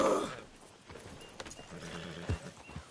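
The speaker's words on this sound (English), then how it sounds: "Damn horse acting up on me." Faint horse sounds from a PS4 video game, with a short whinny at the start followed by soft hoof clops and snorts, quiet throughout.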